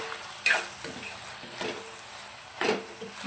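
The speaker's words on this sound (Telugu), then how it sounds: "ఇలా మొత్తం చిల్లీ పౌడర్ వేసుకున్నాక ఇలా కలుపుకోవాలి" Meat pieces fry with chilli powder as a spoon stirs them around the pan, a few scraping strokes rising over a soft continuous sizzle, close and moderately quiet.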